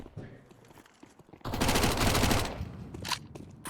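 A submachine gun fires in Counter-Strike 2 during a tournament match, one loud rapid burst lasting about a second after quieter game sounds.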